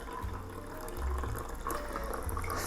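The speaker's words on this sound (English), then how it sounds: "fill your champagne flute to the top with whatever bubbles that you choose" Sparkling wine poured from a freshly opened bottle into a champagne flute for a French 75 cocktail, a steady close liquid stream with a fizzy hiss running the whole time, no talking.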